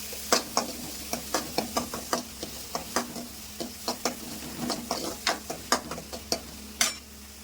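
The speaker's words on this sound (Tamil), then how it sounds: "பூண்டை போட்டு ரெண்டு வதக்கி வதக்கிட்டு தக்காளியும் போடுறேன் நல்லா வதக்கணுங்க" Garlic and onion sautéing in a pan for a mushroom curry, with a steady sizzle under repeated sharp scrapes and clinks of a stirring spoon at an even rhythm, close and fairly loud, no talking.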